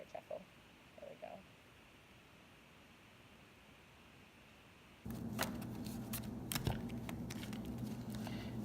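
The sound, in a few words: one-handed shuffle of a tarot card deck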